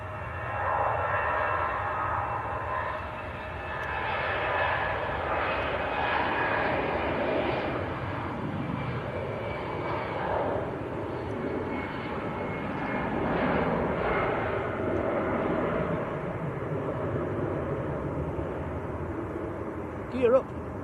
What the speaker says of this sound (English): Okay, EasyJet on the roll.